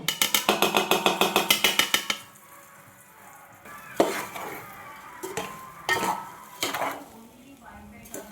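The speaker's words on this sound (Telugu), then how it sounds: "4 స్పూన్లు ఆయిల్ వేసుకొని ఫ్రై చేసుకుందాం. 3 పచ్చిమిరకాయ రెబ్బలు కూడా వేసుకుందాం." Green chillies frying in oil in a pan, opening with a fast run of sharp metallic spoon strikes, then a soft sizzle broken by louder stirring scrapes and clanks.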